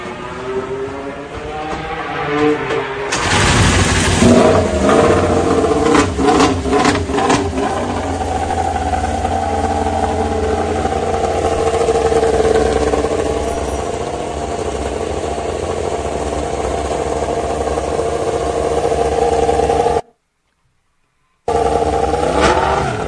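A Yamaha MotoGP motorcycle engine on track with Rins riding, a loud sustained high-revving drone with brief rev changes near the start, continuing steadily before a short dropout near the end.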